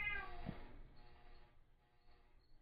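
A pet cat lets out a single drawn-out meow near the start, fairly close, then the sound fades into quiet room tone with no talk.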